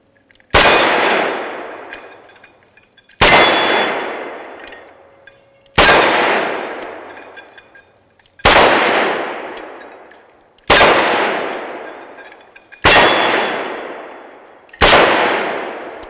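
Smith & Wesson 627 revolver fired seven times at a steady pace about two and a half seconds apart, each sharp loud crack followed by a ringing clang of bullets striking steel that slowly decays, no talk.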